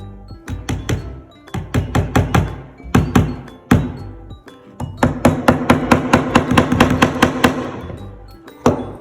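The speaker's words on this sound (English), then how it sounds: "I'm gonna grab my next nail, right beside it, about a centimeter away, and I'm gonna hammer that one in too" A hammer strikes nails into wood in rapid bursts of sharp, ringing blows, pausing briefly between runs, close and loud.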